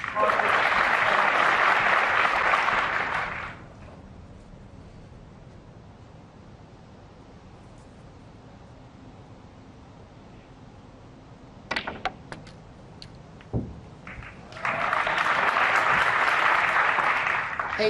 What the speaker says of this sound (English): The knowledgeable crowd here loving that shot